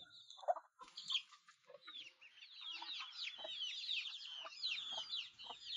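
Farmyard chickens, including young chicks, at dusk in the countryside, with a rooster-like call and clucking at first, then a dense stretch of high chirping and cheeping, moderately distant and faint, without speech.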